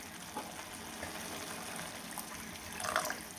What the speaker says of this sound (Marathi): पूर्ण मी 1 ग्लास पाणी टाकले